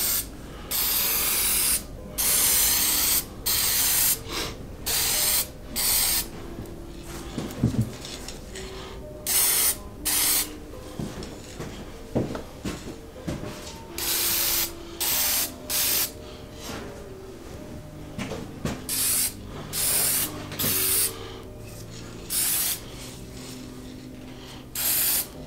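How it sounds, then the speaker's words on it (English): Bursts of semi-gloss lacquer spray onto a wooden urn, a series of short loud hissing blasts separated by brief pauses, close and steady in rhythm. "What I'm using here is a semi-gloss lacquer."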